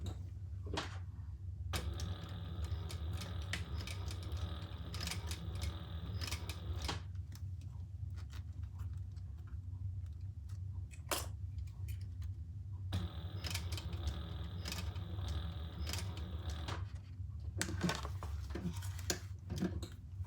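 Home sewing machine stitching a box of two rows across a folded bag strap with a slider, heard as bursts of rapid mechanical ticking with pauses between runs and small handling clicks.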